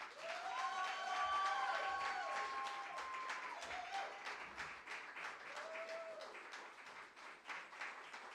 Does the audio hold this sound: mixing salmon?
no